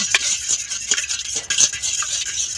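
Eggs beaten briskly with salt in a bowl, a rapid, rhythmic clatter of utensil against the sides, close and continuous with no talking.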